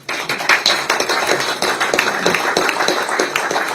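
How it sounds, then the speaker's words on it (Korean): Audience at a Korean labor union policy agreement ceremony claps in a scattered, uneven burst of hand claps, fairly loud and close, lasting a few seconds without talk. "박수 한번 주세요."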